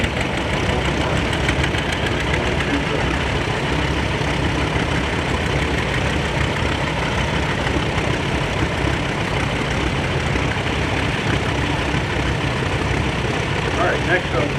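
An antique John Deere 730 diesel tractor runs in an outdoor steam engine and antique tractor parade, a steady, loud engine drone throughout, mixed with crowd noise and talk.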